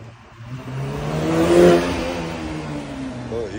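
Porsche GT3 engine revving up to a peak and easing off, with a high whistling whine over the engine note, close by.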